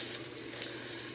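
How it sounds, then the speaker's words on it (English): A bathroom tap runs into a sink with a steady, soft hiss of flowing water that stays even throughout the short moment. "I'm going to turn the water on to use this"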